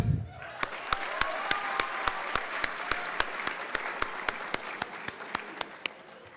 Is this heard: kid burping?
no